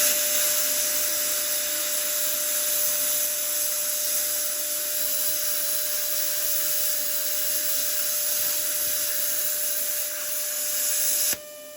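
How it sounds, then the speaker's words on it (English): A YESWELDER plasma cutter slices freehand through steel plate, cutting a washer from the end. It makes a loud, steady hiss with a thin whine held throughout, then cuts off abruptly. "we're gonna cut a washer off this end"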